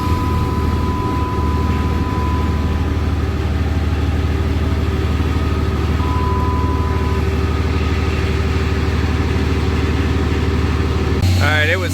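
Cummins diesel engine running steadily up close, a continuous low rumbling drone with faint clatter throughout, ending in a brief louder burst of noise.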